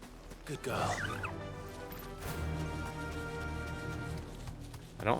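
Birds in the video game Final Fantasy XVI, gobbling fowl-like calls over hoof clip-clop and a low musical drone, with a louder burst near the end.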